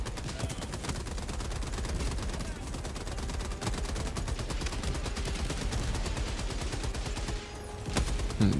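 Orbital bombardment explosions and gunfire in a video game with a Factory Strider, as a dense, continuous barrage of rapid shots and booms that stays loud throughout, with brief voices.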